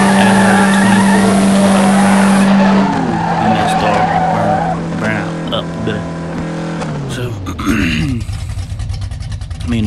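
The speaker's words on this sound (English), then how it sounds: "I mean, the car's gonna spin" Drag race car in a no-limit event spinning its tires in first gear, a loud close roaring engine with harsh screeching tire squeal that shifts and breaks up into rough revving toward the end.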